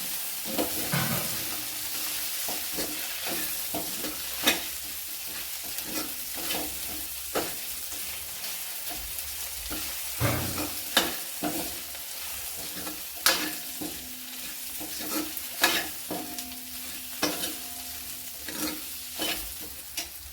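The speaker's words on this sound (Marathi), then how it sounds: "शेंगदाणे छान परतून घ्यायचे आता त्याच्यामध्ये आपण टमाटे पण परतून घ्यायचे चांगले" Peanuts and tomatoes sautéing in a pan for a mixed vegetable dish, with steady sizzling and frequent sharp scrapes and knocks of a spoon stirring, close and continuous.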